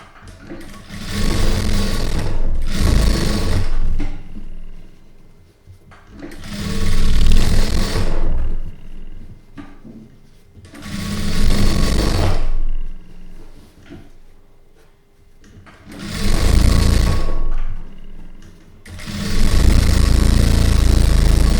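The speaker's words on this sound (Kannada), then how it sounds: "ಈ ಲೈನಿಂಗಿಗೆ ಈ ಮೇನ್ ಕ್ಲಾತ್ನ ಈ ರೀತಿ ಫೋಲ್ಡ್ ಮಾಡಿ ಸ್ಟಿಚ್ ಮಾಡಿ ಇಲ್ಲಿ ಸ್ಟಿಚ್ ಮಾಡಬೇಕು" A sewing machine stitches lining to the main cloth in four long runs of fast, loud, close whirring, separated by short pauses.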